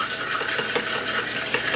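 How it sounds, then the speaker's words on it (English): A spoon stirs a coconut dressing mix for a dairy-free ranch green bean and potato salad, making quick, rhythmic scraping and clinking strokes up close. No voices are heard. "Now it's very important that you stir this up"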